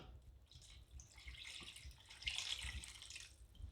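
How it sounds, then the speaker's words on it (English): Water pours steadily into a pot of Bulgarian rice with tomatoes on the stove, a continuous close splashing rush that swells slightly louder toward the end, with no talking. "Now at this point, we're gonna add our water."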